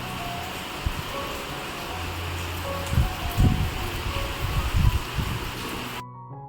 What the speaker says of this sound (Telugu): ఎంత హెవీ రైన్ చూడండి అసలు